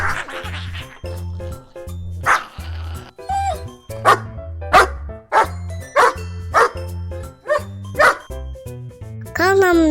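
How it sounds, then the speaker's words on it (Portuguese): A dog barks in a rhythmic series of about ten sharp, loud, close barks, set over a looping musical backing. "Cachorro."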